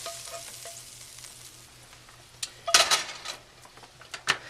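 Browned ground beef, heavy with grease, sits in a pan being drained, giving a quiet crackling sizzle before a burst of louder scraping and clattering as the pan is handled and shaken.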